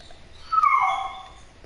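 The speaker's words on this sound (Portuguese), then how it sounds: "Nossa, meu cachorro tá fazendo um..." A dog gives a single high, drawn-out whine that rises and then slides down, fairly close and clear over a low background hum during a Fortnite gaming session.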